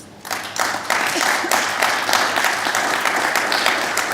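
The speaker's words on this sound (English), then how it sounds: "How about a round of applause for our panelists?" Applause breaks out from a conference audience for the panelists at an energy-policy event, rising quickly to a steady, full round of clapping that holds at even strength.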